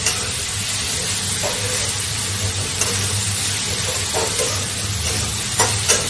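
Continuous loud sizzling and hissing of vegetables frying in hot oil on high flame, with a few faint scrapes of a utensil stirring now and then.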